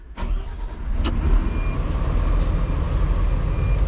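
A Volvo plant machine's diesel engine starts up, a sharp crank and catch followed by a loud rumbling idle, with a steady reversing-style beep pulsing over it.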